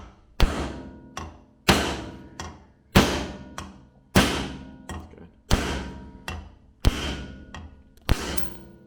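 About eight hammer whacks, each a sharp loud crack with a short ringing tail, strike a rear suspension strut part from a Land Rover Freelander 2 held in a vise, spaced roughly a second apart and sometimes paired with a lighter follow-up tap.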